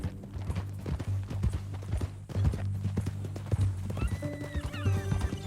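A horse's hooves clip-clop steadily in Red Dead Redemption 2, with a whinny and snorting amid a low humming game backdrop, close and rhythmic.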